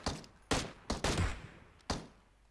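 Gunfire in PUBG Mobile: several sharp shots in quick, uneven succession, each with a short decaying tail, moderately loud and heard without talk.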